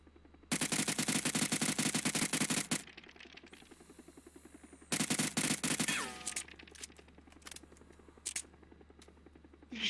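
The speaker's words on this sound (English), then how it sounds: "Shooting smoke launchers." Video game combat with smoke launchers firing and rapid automatic gunfire in two long, loud bursts, followed by scattered single shots and scraping sounds.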